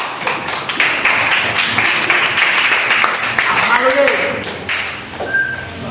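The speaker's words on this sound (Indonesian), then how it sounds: "Beri tepuk tangan untuk kelompok 1" A classroom of students gives a loud, sustained round of applause for a presenting group, clapping densely throughout with a few taps and thumps and brief voices toward the end.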